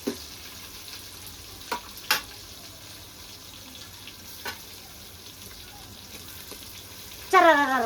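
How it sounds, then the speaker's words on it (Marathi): Tomato frying with masala in a pan for chicken, a low steady sizzle broken by a few sharp clinks of a spoon against the pan, and running water near the end. "आता टमाटर टाकलं की टमाट्याचं पाणी होते त्याच्यामुळे आता ह्याच्यामध्ये भाजतोय मस्त हे"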